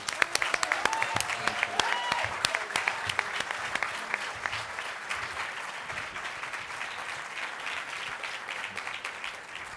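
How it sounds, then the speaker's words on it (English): An evening benefit audience applauds for Dan, a leader at the Aspen Institute, with a sustained wash of many hands clapping that peaks early and then settles into a steady, slightly softer ovation across the room. "So please give a round of applause to Dan"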